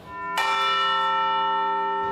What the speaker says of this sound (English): when the bells strike, the quarter chime and the hour strike, I'm also listening for that.